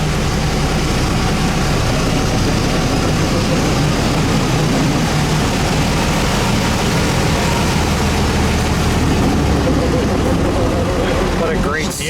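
A 1913 Locomobile Model 48 with a 4-speed transmission pulling away in first gear, a loud, continuous low engine rumble throughout, with a person talking over it.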